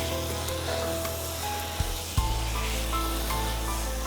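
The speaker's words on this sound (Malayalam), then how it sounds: "ഇനി നന്നായിട്ട് മട്ടൺ ഇതിനകത്തേക്ക് ഇട്ടിട്ട് നല്ലതായിട്ടൊന്ന് വരട്ടിയെടുക്കാം." Mutton sautéing in a pan for Dindigul thalappakatti mutton biryani, a steady close sizzle with a couple of brief stirring scrapes and knocks partway through.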